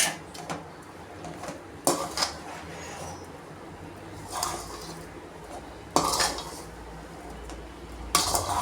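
Cardamom and cashews being stirred into a traditional ghee-and-sugar sweet in a pan, heard as a few sharp metal spoon scrapes and clanks against cookware at irregular intervals over quiet background.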